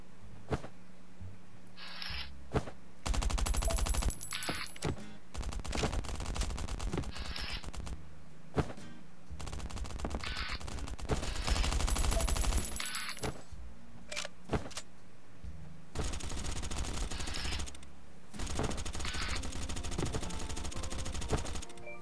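Repeated bursts of light machine gun fire in Last Island of Survival, loud and rapid, broken by pauses and clicks of handling over roughly twenty seconds.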